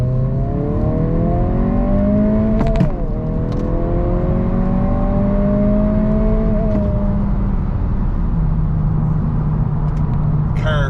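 A tuned 2022 Honda Civic Si with 23 psi of boost accelerates hard from low revs, its engine note climbing steadily through the gear, with a sharp gear change and a brief dip before the pitch rises again, loud and close.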